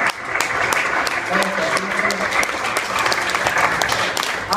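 A dense crowd applauds steadily at a live concert in Jackson, Wyoming, with a loud, even wash of clapping lasting throughout and a few voices mixed in.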